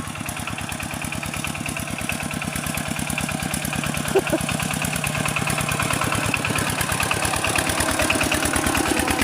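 A tractor engine runs steadily at idle nearby, a rapid even chugging throb that continues throughout at moderate loudness with faint background noise.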